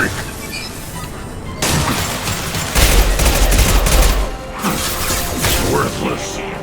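Dense, rapid gunfire and crashing impacts in a Mass Effect Legendary Edition battle, loud and continuous with booming hits, with combat voices shouting over the firing.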